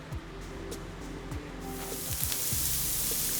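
Onions stir-fry in sesame oil in a wok, starting with faint scraping stirs and swelling into a loud, steady sizzle partway through, close and without talk.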